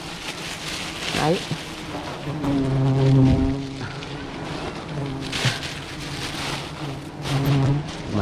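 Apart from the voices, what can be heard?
rain falling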